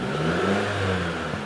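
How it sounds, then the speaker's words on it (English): A 2011 Jeep Patriot with a JF011E CVT and code P0777 runs steadily at raised revs, a close, even mechanical hum with slight pitch wavering and no speech. "if we bring the revs up"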